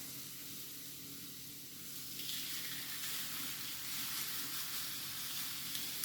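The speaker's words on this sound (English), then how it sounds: "you hear that nice little sizzle. That's what you want." Turkey burgers sizzle quietly in a hot grill pan, a soft steady crackling hiss that grows slightly louder partway through.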